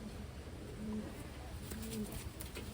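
Soft, low coos from a medium-sized female racing pigeon repeat a few times against steady background hiss and faint distant noise, no talking.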